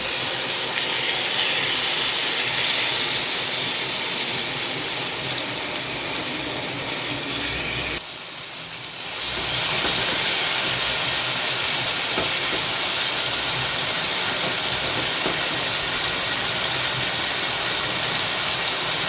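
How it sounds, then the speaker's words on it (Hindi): Marinated chicken for butter chicken sizzles in hot oil in a kadhai, a loud, steady, close hiss that dips briefly for about a second midway, then carries on unbroken with no voices. "जी तो चिकन इसमें ऐड कर देंगे अब कढ़ाई में जो हमने मैरिनेट करके रखा हुआ था।"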